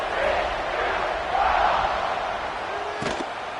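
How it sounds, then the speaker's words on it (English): Stadium crowd at a college football game buzzing after a touchdown, a loud continuous roar of many voices with a sharp thump near the end. "this crowd is buzzing after that last score"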